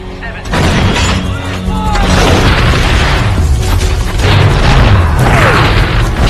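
Artillery bombardment on a front line where Australian troops are besieged by Vietnamese guerrillas: loud, dense rumbling booms and blasts roll continuously, with crackling bursts layered through the din and heavy low-end thuds throughout.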